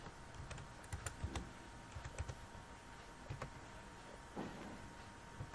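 Username and password typed on a computer keyboard, sparse quiet key clicks in short clusters, close and faint, with no talk.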